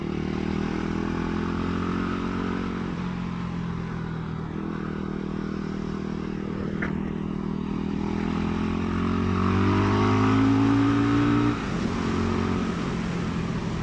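A FANTIC Caballero Scrambler 500 Deluxe motorcycle rides off-road. Its engine drones steadily and shifts in pitch as the throttle changes, mixed with rattles and scrapes from the rough ground, and no voice is heard.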